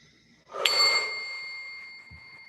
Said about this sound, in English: I didn't even finish ringing the bell.